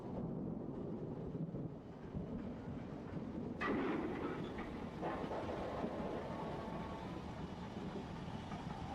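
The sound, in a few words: LMS Black Five steam locomotive running on railway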